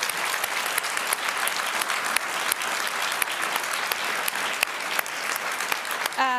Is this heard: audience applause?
yes